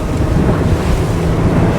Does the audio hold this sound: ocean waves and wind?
yes